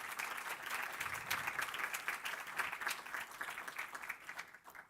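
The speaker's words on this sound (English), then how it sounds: "let's give her one more round of applause, shall we?" Applause from the audience at an OSCE youth forum for a speaker from Ukraine, a sustained, even patter of many hands clapping, somewhat distant and soft, fading slightly at the very end.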